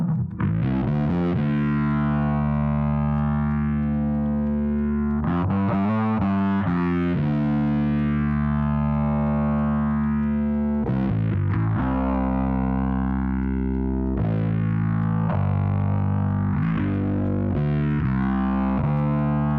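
Heavily distorted electric guitar through a Big Muff Russian edition fuzz pedal and TC Electronic Flashback 2 delay, playing sustained, fuzzy riffs with chord changes, thick and saturated with a trailing echo, loud and continuous without voices.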